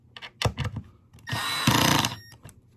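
A Milwaukee 12-volt screw gun drives a screw into 3/4 inch plywood, a loud steady whirring burst lasting under a second, preceded and followed by short clicks and handling knocks.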